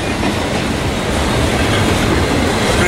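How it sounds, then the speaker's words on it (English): Slow train rolling past on rails at a railfanning spot in Fullerton, heard close and loud: a continuous broadband rumble and rattle of wheels and cars throughout, with no talk. "Shit, this train's going slow."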